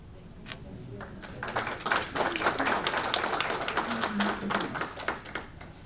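A small audience claps after a talk at a meeting on pond water quality, with scattered individual claps building into a few seconds of moderate, fairly close applause that then tapers off.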